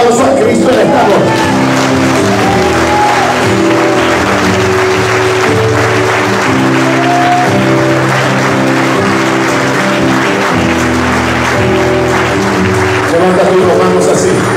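Congregation at a parish worship night applauding steadily beneath sustained music and a voice, the clapping forming a constant textured layer under the praise band throughout.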